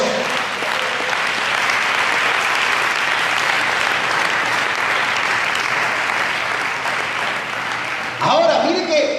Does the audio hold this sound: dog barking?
no